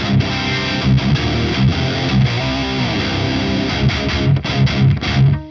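Distorted heavy metal electric guitar played through a Revalver 4 amp simulation into a blended Mesa 4x12 cabinet, chugging riffs with dense saturated tone and steady loud level, no voices.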